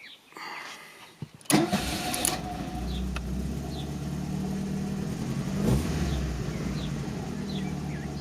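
An Alfa Romeo 33 under restoration, restarted warm after a short drive: a quiet lead-in, a sharp cranking catch, then a steady idle with a brief rev midway, close and alone.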